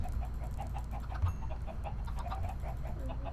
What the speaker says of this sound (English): let's go meet some of these chickens